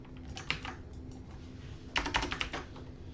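Typing C# code on a computer keyboard, quiet clusters of quick key clicks with a pause between, faint and close with a low hum underneath.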